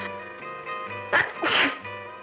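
A single sharp sneeze bursts out close by, over a low steady hum, with a quieter breathy catch just before it.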